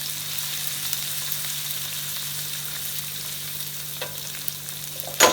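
Onions frying in a pan of oil while making dry chicken varuval, a steady low sizzle held close and even throughout, with a brief clatter at the very end.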